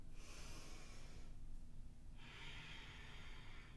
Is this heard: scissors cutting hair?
no